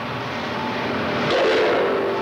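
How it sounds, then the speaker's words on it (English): Train wheels pass over rail joints on a moving train, giving a continuous loud rumble with a brief whistle-like tone partway through. "Clackety-clack of a train ride caused by joints between the rails"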